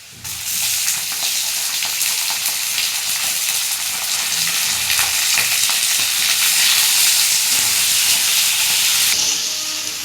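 Chicken mince fries in a pan with fried onions, a loud, steady sizzle and hiss, the bubbling roar continuous throughout with faint stirring.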